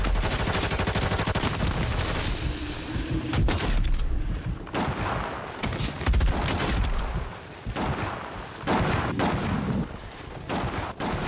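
Rapid bursts of gunfire and booming blasts fill a Warzone video game gunfight, loud, dense volleys that break off briefly and resume, with no voices.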